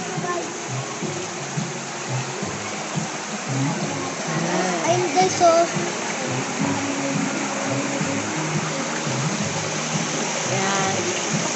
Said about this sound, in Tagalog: Umagos yung tubig galing sa mountain siguro to.